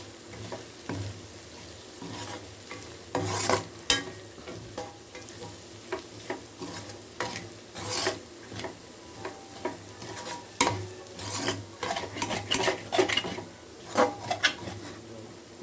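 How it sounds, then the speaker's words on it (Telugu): Potato fry with chilli powder is stirred in a pan, a steady sizzle broken by irregular scraping and clinking of the spoon against the pan bottom, close and fairly quiet, with no talking. "దాన్ని జాగ్రత్తగా చూసుకుని కలుపుకుంటూ అడ్జస్ట్ చేసుకుంటా మధ్య మధ్యలో కలుపుకుంటూ ఉండాలి ఉడికేంత వరకు"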